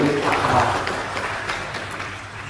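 Brief applause from a classroom audience at a team quiz after the scores are read out, short and fairly even, settling down within about two seconds.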